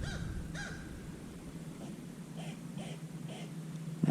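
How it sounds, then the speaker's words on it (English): Several birds calling repeatedly in underbrush on a forest ridge trail, short harsh scolding calls at a steady rhythm, fairly close, with no talk. "You got a couple birds up here giving me some grief too."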